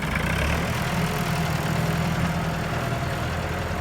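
A Massey Ferguson 455 tractor engine revs hard in a continuous loud, rough diesel roar, close and steady throughout with no voices.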